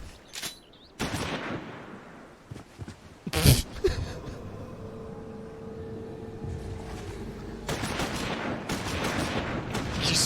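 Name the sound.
gunfire in Final Fantasy XIV video game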